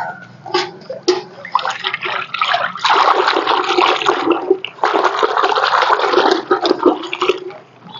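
Water poured over a dog during a rinse after shampooing, a steady gushing splash in long bursts with brief pauses, close and fairly loud.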